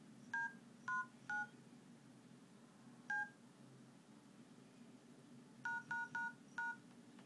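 Touch-tone keypad beeps from the dial pad of an HTC HD2 phone running Android: a few single presses, then a quick run of four tones, short and clean over a low background hum.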